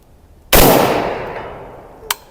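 A single sharp rifle shot on an outdoor shooting range, aimed at targets 200 yards away. It cracks loudly and its echo trails off over more than a second before a faint distant report.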